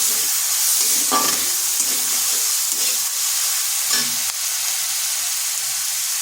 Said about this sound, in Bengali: এরপর এটাকে একটু নেড়ে নিচ্ছি যাতে আদার গন্ধটা চলে যায়